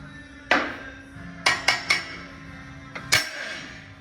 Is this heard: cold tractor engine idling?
no